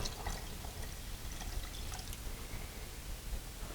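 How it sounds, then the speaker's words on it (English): Water saved from thawing shrimp poured into a thick shrimp dish during a squirrel hunting catch-and-cook, a steady soft wet trickle running continuously, close and fairly quiet with no talk. "we're going to add some of the water that I used to thaw the shrimp out"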